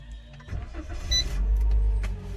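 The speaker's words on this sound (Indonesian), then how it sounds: "Ini mesin mobilnya nyala." A car engine cranks and catches after a remote GPS-tracker command, settling into a steady low idle rumble close by, with a faint whir early on.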